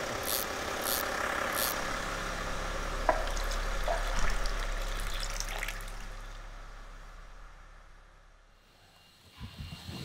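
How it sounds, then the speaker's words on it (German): A car engine with 300,000 km on it idles for an oil analysis test, giving a faint, steady low hum with a few small clicks and drips. It fades toward the end. "15 Minuten lassen wir den Motor jetzt laufen."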